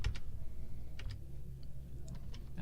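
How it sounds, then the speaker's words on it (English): Keys are tapped on a computer keyboard while numbers are entered during a Friday Night Magic card game stream, giving a few scattered, light clicks over a steady room hum with no talk. "I'm just typing in random numbers here"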